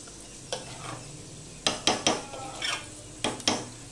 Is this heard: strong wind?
no